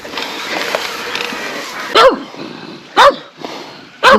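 A dog barks three times at roughly one-second intervals, loud and close, with wind and rustling in open Northumberland hill country between the barks.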